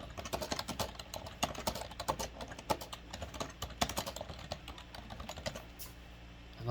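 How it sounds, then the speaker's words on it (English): Steady, rapid typing on a computer keyboard, with dense irregular clicks and key taps running throughout at close range, with no voices. "I love the sound of me typing for some reason."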